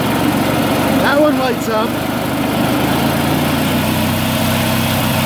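A Bolens 3014H garden tractor engine runs steadily at idle with the PTO engaged, a loud, continuous mechanical drone while someone talks over it.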